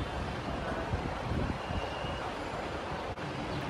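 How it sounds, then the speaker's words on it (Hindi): A strong wind blows outdoors before rain in Kolkata, a steady broadband roar that fills the whole clip with no talking. "इधर आप देख सकते हो काफ़ी तेज़ हवा चल रही है"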